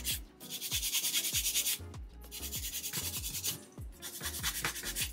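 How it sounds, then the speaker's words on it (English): An 80/80 grit nail file shapes the sidewalls of long stiletto nails in quick, close rasping strokes. The strokes come in short rhythmic bursts with brief pauses, and no one speaks. "80/80 grit nail file. File the sidewalls."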